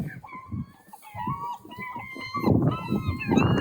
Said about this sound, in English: Okay, seagulls.